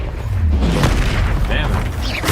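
A Confringo explosive spell in the Hogwarts Legacy video game lands as a booming blast amid a steady roar of combat noise, followed by a few short crackling magical flourishes.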